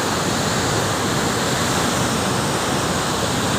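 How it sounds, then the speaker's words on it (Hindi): Water rushing through the half-open barrage gates at Head Marala, a loud continuous broadband roar like a waterfall, steady and unbroken with no talk over it. "ये देखिए अभी ये आधा पानी खुला है।"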